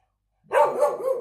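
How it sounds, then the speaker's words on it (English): A dog gives a sudden loud bark after a short silence, a single close, sharp bark with a trailing whine-like tail. "Did you hear another dog?"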